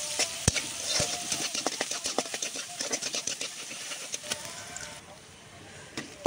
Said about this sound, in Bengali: এখন কড়াইতে তেল আর পেঁয়াজ, রসুন, পেঁয়াজ আর রসুন দিয়ে ভাজা নিতেছি কিছুক্ষণ